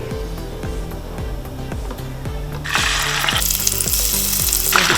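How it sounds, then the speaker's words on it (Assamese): Fish fries in hot mustard oil with a rhythmic mechanical ticking beneath. The sizzle swells into a loud, bright hiss partway through as the pieces go in. "ভজাৰ জুখৰে মিঠাতেল দিছো পকিলে মই মাছখিনি দিম ইয়াত আৰু ভালদৰে ভাজি লম"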